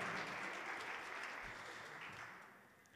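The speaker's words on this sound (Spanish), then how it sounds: "les damos un fuerte aplauso al premio de Área Formación" Soft, dense applause from an audience at a 2021 school awards ceremony for first and second year secondary students, greeting the Área Formación prize. It sounds distant and fades gradually over three seconds.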